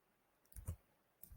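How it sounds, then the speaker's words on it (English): Computer mouse clicking while working in QGIS mapping software, a few quiet close clicks in quick succession with a fainter click just after. "And by clicking plus button"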